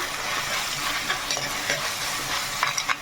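Onions frying in a pan for a chicken dish, with a steady broadband sizzle and occasional scraping stirs of a utensil against the pan, close and continuous with no talking.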